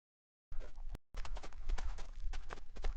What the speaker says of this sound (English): All of the footsteps are too fast and don't match what's on screen.